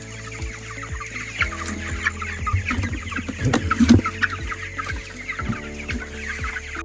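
Twenty-day-old meat chickens cluck and chatter in a group nearby on a small farm, with short repeated clucks and a few louder squawks over a low hum.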